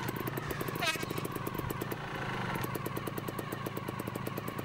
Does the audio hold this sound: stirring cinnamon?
no